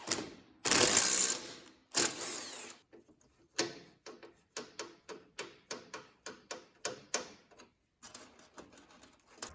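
Screws being driven down into a DIY electric fan shroud, a run of close, sharp ratcheting clicks in short bursts after a couple of louder rattling handling noises, with no talking.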